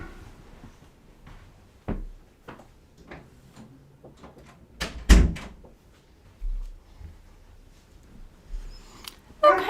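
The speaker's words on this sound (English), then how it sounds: "Hang on one second, and I'm going to close the door." A door clicks and thumps shut indoors, with several sharp knocks and handling noises leading up to a louder close midway, followed by a few softer bumps in a quiet room.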